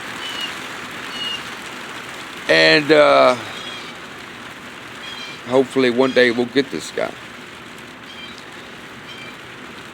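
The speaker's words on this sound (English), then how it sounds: "It's starting to rain." Rain falls steadily outdoors as a constant soft hiss throughout, with someone speaking over it in two short bursts.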